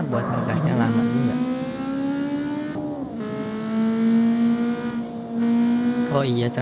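A car engine in CarX Street revs up and holds a strong, sustained tone that climbs gradually in pitch, dips briefly as it shifts, then rises again, loud and close, with a short burst of revving at the end.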